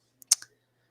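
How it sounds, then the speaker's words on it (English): Typing on a computer keyboard: a few quick, faint key clicks in a short burst, then quiet. "That's the typing"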